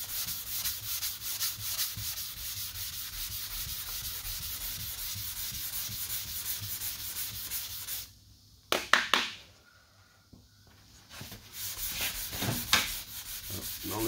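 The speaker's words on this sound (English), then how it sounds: "You'll sand all the paint or primer off of where it wasn't sanded previously." Wet sanding 2K primer along a car body line, a steady rasping scrub that runs continuously, pauses briefly near the middle, then resumes in shorter strokes.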